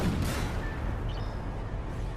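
Tank cannon shot in the video game Armored Warfare, a single loud booming blast right at the start that rolls off into a rumbling tail.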